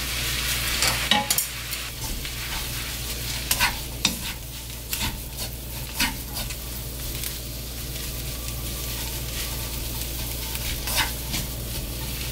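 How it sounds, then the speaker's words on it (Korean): Seasoned dried bangpung greens being stir-fried in a pan, a continuous close sizzle with repeated scraping stirs and clatters of the utensil against the pan, steady and unaccompanied by speech. "이제 넣어서 나물을 넣어서 볶아보겠습니다"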